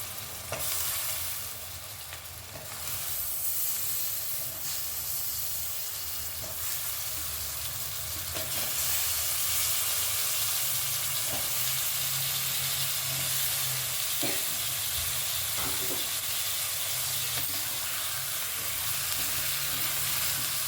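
Potato pieces for aloo pulao sizzle steadily in a hot pan, a continuous loud frying hiss with occasional stirring scrapes, no voices.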